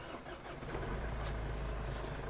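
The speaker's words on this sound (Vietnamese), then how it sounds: "Tôi sẽ nổ máy cho quý vị bạn thấy." A diesel car engine turns over and settles into a low, steady idle, heard close up at moderate volume with no talking.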